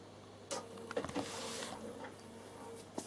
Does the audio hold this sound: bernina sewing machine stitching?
yes